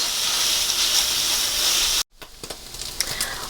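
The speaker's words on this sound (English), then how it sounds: "I wanted to just get a little bit of color on this ground meat" 80-20 ground meat browns in a pan, a loud steady hissing sizzle that cuts off abruptly, then quieter scattered crackles and spatters.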